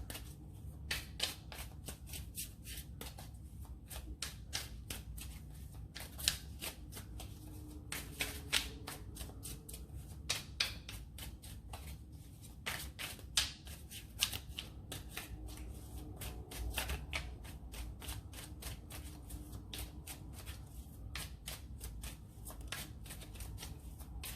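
Tarot cards are shuffled by hand in long continuous bursts of riffling and sliding, with crisp snaps and taps throughout, close and moderately quiet, with no talking.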